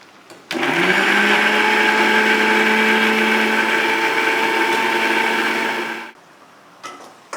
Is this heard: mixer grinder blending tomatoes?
yes